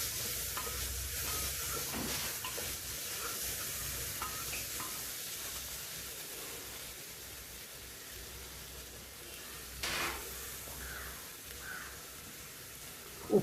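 Ginger garlic paste being stirred and fried in a pan, a soft, fairly faint sizzle with occasional scrapes and a louder clatter near the end, alone without speech.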